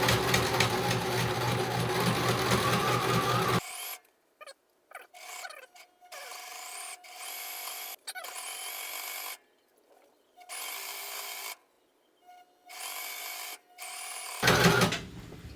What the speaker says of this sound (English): I went around the circle and turned and sewed back over the part where I started